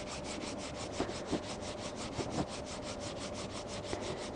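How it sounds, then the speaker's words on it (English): Hands rubbing together gently for warmth during a somatic movement session, a steady soft swishing friction repeated in quick strokes, close and quiet, with a few faint light taps along the way. "let's take our hands together and just give them a gentle rub"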